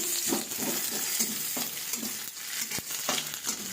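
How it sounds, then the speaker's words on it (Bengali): Onion frying in a pan with garlic, chili and lentil dumplings, a steady close sizzle broken by repeated stirring scrapes of a utensil, with no talking. "পেঁয়াজটা দিয়ে দিলাম, আর আগে ভেজে রেখেছি রসুন লঙ্কা বড়ি সব ভেজে রেখেছি। এবার পেঁয়াজটা দিচ্ছি।"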